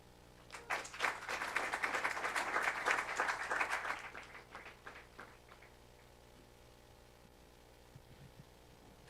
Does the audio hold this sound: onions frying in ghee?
no